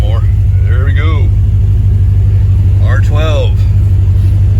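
A Paxton-supercharged C4 Corvette with a TPI ZZ3 5.7 engine idles steadily with the air conditioning on, a loud constant low rumble and whine while someone talks over it.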